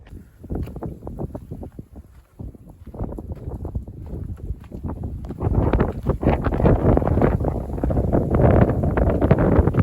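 Strong gusting wind on an exposed Maui hillside along the Lahaina Pali Trail near windmills, buffeting the microphone in heavy rumbling bursts that build louder and more constant toward the end.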